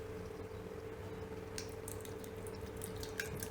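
Vinegar dribbles in irregular drips and small splashes from a standard bottle, faint spatters over a steady low hum.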